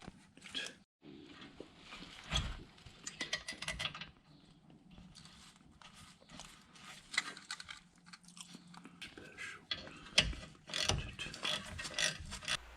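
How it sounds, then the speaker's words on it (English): A 3/8-inch drive ratchet tightening the brake caliper bolts on a 2002 Ford Taurus front brake, clicking in quick bursts of pawl ratcheting separated by short pauses, close and fairly quiet. "I'm going to tighten these using a 3/8-inch drive ratchet."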